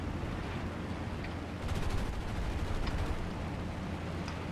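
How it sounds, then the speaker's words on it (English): A turret gunner's machine gun fires a short, fast burst in War Thunder. It is faint and largely buried under the steady roar of the aircraft's engine. "Oh, my turret gunner just decided to start shooting."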